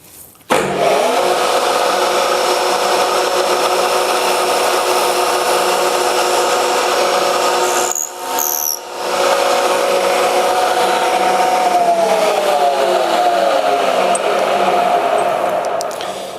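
A power drill with a rigid bit bores steadily into metal for a long stretch, a loud continuous whine that pauses briefly midway and then shifts pitch as it cuts, with no talking.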